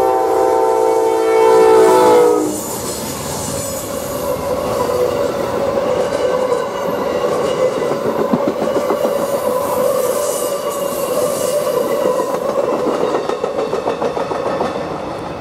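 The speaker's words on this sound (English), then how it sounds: "Amtrak 19 westbound, Heflin, Alabama." Amtrak 19, a westbound passenger train in Heflin, Alabama, sounds its horn loudly for about two seconds, then rolls past with a continuous rumble and rhythmic wheel clatter close by.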